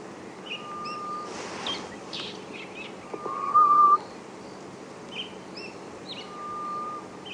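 A drawn-out, clear whistled bird call rises out of quiet morning ambience at Djuma Game Reserve, repeating a few times with faint chirps and insect buzz in the background.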